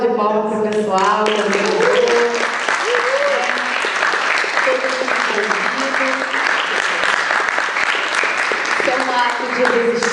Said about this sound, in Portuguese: Então, salva de palmas para o pessoal.